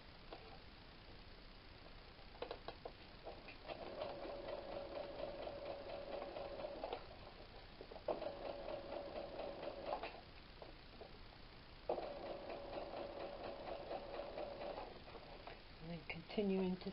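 A home sewing machine stitches a 5/8-inch apron seam over darts on a 1940s-style apron, running in three quiet bursts of a few seconds each beneath a person talking.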